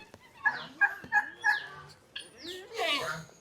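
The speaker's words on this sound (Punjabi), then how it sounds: "ਕਬੂਤਰ ਬਈ ਫਾਈਨਲੀ ਪੈਪ ਤੇ ਆ ਕੇ ਬਹਿ ਗਿਆ" Pigeons at a home coop give a string of short, throaty calls in quick bursts, fairly close and moderately loud, with a fuller flurry of calls near the end.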